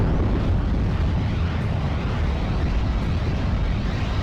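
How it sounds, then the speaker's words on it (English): Calliope rocket strike in the game Steel Division: Normandy 44, fought at Colombelles. A loud, unbroken roar of overlapping explosions and rumbling blasts rolls on steadily throughout. "Massive rocket strike is hopefully going to pick off a couple units for us"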